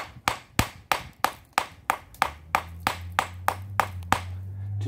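A small 24-ounce hammer strikes a quartzite boulder again and again to spall it, about a dozen sharp, loud, evenly spaced knocks over steady low background noise.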